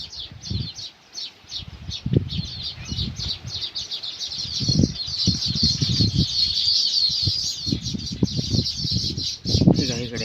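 Many baya weaver birds chirp and chatter continuously in a busy chorus near their nests over water, with someone talking intermittently underneath.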